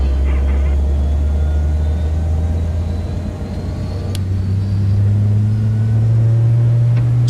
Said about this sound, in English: Beautiful engines spooling up in the background.